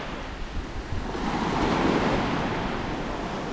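Ocean surf rolling in at Delray Beach, Florida, a broad steady wash of waves that swells louder toward the middle, mixed with wind buffeting the microphone, no voices.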